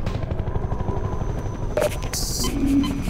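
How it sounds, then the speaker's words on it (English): A combat helicopter in the video game Half-Life 2 drones with a steady low rotor thrum, loud and continuous, with brief sharp bursts of gunfire and game effects near the end; no talk. "The helicopter could probably still shoot me in here"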